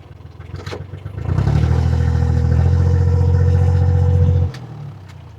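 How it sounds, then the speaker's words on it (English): A narrowboat hull grinds and scrapes along a wonky metal Armco barrier, a loud, steady, droning rasp that swells after a second, holds for about three seconds, then drops back to a lower rumble. "You can hear it scratching along the side. Makes a horrible noise."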